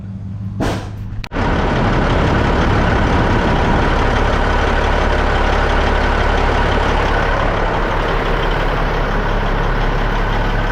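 A truck engine starts up after a brief clunk and then idles loudly and steadily at close range for the rest of the stretch.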